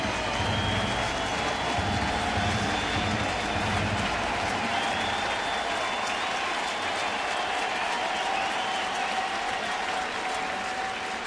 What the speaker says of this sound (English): And another nice round of applause for Albert